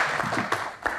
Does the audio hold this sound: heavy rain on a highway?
no